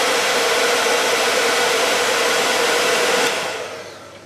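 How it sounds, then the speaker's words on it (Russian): A household hair dryer blows over epoxy resin, a loud, steady whooshing roar that runs unbroken for about three seconds and then winds down as it is switched off. "Вот такой фен."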